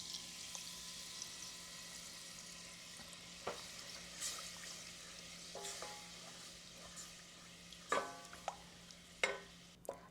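Butter melts in a pan with a soft, steady sizzle, joined by occasional scraping stirs that grow louder and more frequent toward the end.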